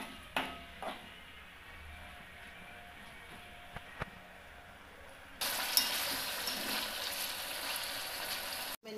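Salt and chili frying in oil in a pan for paneer masala, a quiet background sizzle with a few small clicks that swells abruptly into a louder, steady hiss for the last few seconds.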